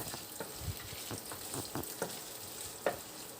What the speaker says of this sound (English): after you stir fry for about 2-3 minutes